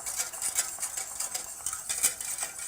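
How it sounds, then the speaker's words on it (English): A whisk beats flour into a pan, giving close, steady, rapid scraping and stirring strokes with light metallic clinks and no voices. "you're going to put 2 tablespoons of flour and give it a good whisk"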